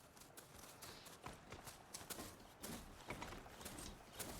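A horse gallops in the video game Horizon Forbidden West, its hooves thudding in a quick, even rhythm, faint and steady throughout.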